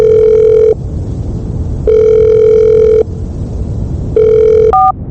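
A phone's ringback tone sounds in three steady beeps with pauses between, over low background rumble, ending in a short higher tone.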